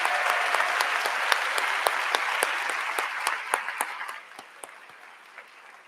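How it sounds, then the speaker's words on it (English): Sustained applause from a large audience at a Class of 2023 commencement ceremony, dense and loud at first, then thinning to scattered individual claps as it fades out. "Let's give her another round of applause."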